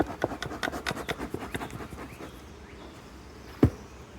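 A wooden frame is pulled out of a beehive box with a quick series of close scraping, rasping strokes, then a pause and a single sharp knock.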